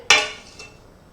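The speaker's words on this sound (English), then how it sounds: "I'm going to put some butter in the fry pan" A pat of butter dropped into a frying pan while making French toast, giving one sharp clattering contact followed by a faint second tap, close and otherwise quiet.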